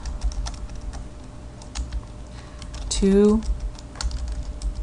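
Quick, light clicks of typing on a computer keyboard, a steady patter of keystrokes close by, with a brief spoken word partway through.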